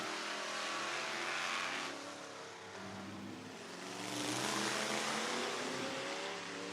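A Street Stock division race car eases around the speedway at Swainsboro Raceway, its engine a steady roaring drone that dips briefly and then swells louder as it passes, heard from a distance.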